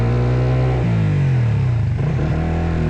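A motorcycle with its rear wheel sunk in mud on a rough, rocky road climbs and sags in a loud, steady engine rev that dips and surges as it strains, close by with no talking.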